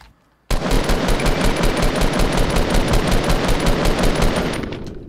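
Sustained rapid automatic gunfire from a Fortnite Battle Royale match, loud and continuous for several seconds after a brief quiet start, with a steady rattling rhythm.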